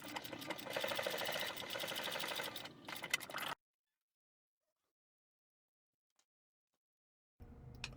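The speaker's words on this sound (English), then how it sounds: "What we're going to do is stitch down here and down there with our tab open at a 6mm or 1/4 of an inch." A sewing machine stitches down a fabric wallet tab in a rapid, even whir for about three and a half seconds, then stops into near silence before running briefly again at the end.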